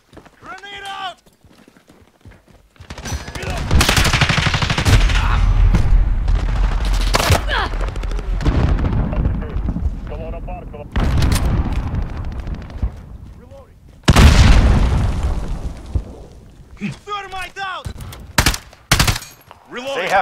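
In a Call of Duty: Modern Warfare 2019 beta match, dense gunfire and a loud blast roar over several seconds, broken by short quiet gaps in which game voices call out.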